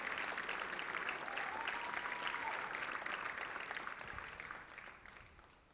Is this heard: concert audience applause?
yes